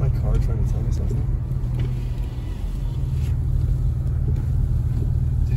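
A car drives through a heavy blizzard in Big Bear with a steady low engine and road rumble throughout, plus a faint odd humming tone, while someone talks over it.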